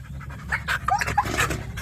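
A large dog pants rapidly up close, quick breathy huffs in a steady rhythm for a couple of seconds.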